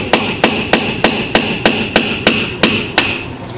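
Sharp, ringing hammer blows drive nails into wood at an even pace, about ten in a row, close and loud with no talking.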